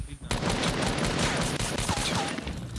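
Rapid automatic gunfire from the Fortnite video game rattles densely and continuously through a short stretch, with players talking over the shooting.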